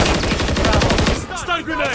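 Sustained automatic gunfire fills a Call of Duty MW3 multiplayer domination match, a rapid, loud burst of shots that tapers into scattered game effects.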